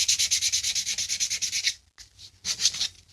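Finer-grit sandpaper rubs back and forth on a vintage wooden saw handle in quick, regular strokes, close and crisp, then pauses briefly before a few more strokes resume.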